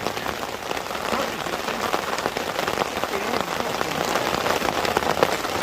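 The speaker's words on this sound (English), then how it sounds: "It's raining when we got here and it's raining when we're leaving." Heavy rain pouring down on a campsite, a dense, steady hiss of drops drumming on surfaces close by, continuous and fairly loud with no talk.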